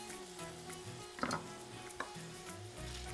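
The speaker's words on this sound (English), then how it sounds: "Give it a stir." Shirataki fried rice is stirred in a pan, a spoon scraping and clinking twice over a low, steady sizzle and faint background hum.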